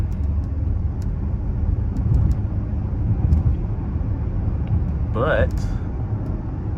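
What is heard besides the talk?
Dodge Charger V6 car driving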